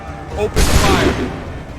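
A single loud musket volley from a line of soldiers in Assassin's Creed III, a sharp crack followed by a rolling, booming tail, preceded briefly by a voice.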